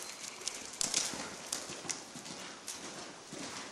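A horse cantering on the left rein in a training arena, its hoofbeats a rhythmic, fairly faint clip-clop of soft thuds, steady and unbroken, with no talk heard.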